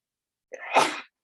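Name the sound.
sneeze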